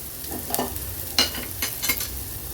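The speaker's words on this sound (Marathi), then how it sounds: "व्यवस्थित ही डाळ अशी मिक्स करून घ्यायची आहे" A spoon stirs dal mixed with a homemade fennel and fenugreek spice powder in a pot, giving a few soft scraping strokes and quick clinks spaced irregularly, close up and moderately quiet with no talking.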